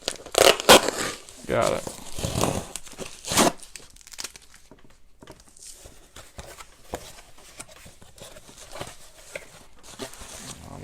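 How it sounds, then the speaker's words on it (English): Packing tape rips loudly off a cardboard box in several quick tears, followed by softer crinkling and rustling of the box, with a person speaking briefly. "Hopefully I can get this box open."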